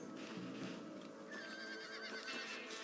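Horse neighing in the video game Red Dead Redemption: a loud, close whinny with a rising and wavering pitch, over a faint outdoor game background and some light hoof movement.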